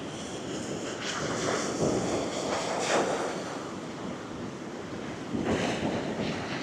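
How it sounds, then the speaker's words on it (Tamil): Big ocean waves breaking at Batticaloa after a cyclone, a steady roar of surf with swelling crashes, heavy wind buffeting the microphone throughout. "அங்கே பெரிய பெரிய அலைகள்."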